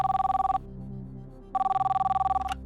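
A telephone rings for an incoming call on a televised quiz show, two bursts of a bright electronic ring with a pause between, clear and close with no talking.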